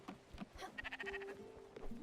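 A faint sheep bleat from the video game Spiritfarer wavers briefly amid quiet background tones and soft music-like notes, with no voices.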